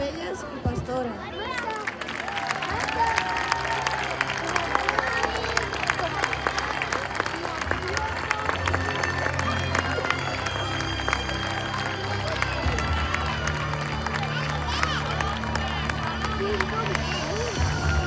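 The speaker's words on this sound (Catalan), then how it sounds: "Aplaudiment pels nens i nenes que han fet de cavalls, ovelles i pastores." An audience at a Sant Jordi legend performance applauds the children who played horses, sheep and shepherdesses; broad clapping and crowd murmur continue steadily with some chatter and movement mixed in.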